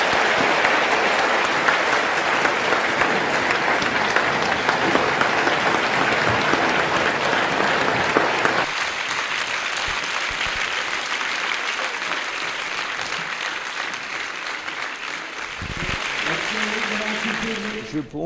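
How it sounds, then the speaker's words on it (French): Sustained, loud audience applause fills a university hall for a Holocaust survivor speaking at Dauphine, then thins to a softer, lingering clapping with a voice faintly present. "vous pouvez l'applaudir très fort."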